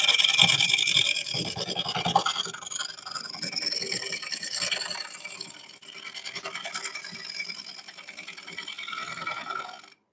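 A scraper cuts a wooden bowl on a woodturning lathe, making a continuous close rasping and scraping that pulses with the spinning wood. The sound eases off briefly in the middle and then resumes.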